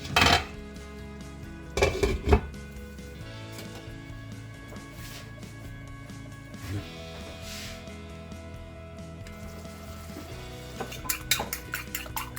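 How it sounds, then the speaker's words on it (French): Three eggs with a little salt are beaten in a bowl, with sharp clinks of utensil against dish at the start and end and softer stirring between. "j'ai mélangé 3 œufs avec un petit peu de sel, que je bats pour mieux les répartir"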